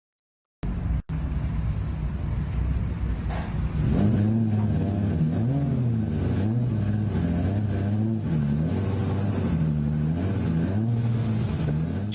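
A 1,000-horsepower turbocharged drag car at Sendai Highland roars through a long burnout, its engine revving loud and sustained with steady rising and falling pitch after a brief start.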